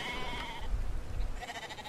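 A sheep in the video game Brothers gives a short, close, wavering bleat, sounding over a low rumbling background.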